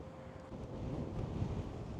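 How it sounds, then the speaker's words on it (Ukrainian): Steady, strong ocean wind on the Algarve coast buffets the microphone with a low, continuous rumble, gusting slightly louder toward the middle and holding throughout. "Доволі сильний вітер, прям бриз океану відчувається на лиці."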